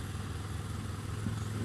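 Motorbike engine running steadily while riding through London traffic, a constant low droning rumble held close and even throughout with no voices.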